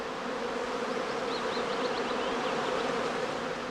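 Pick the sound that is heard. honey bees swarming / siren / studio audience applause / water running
honey bees swarming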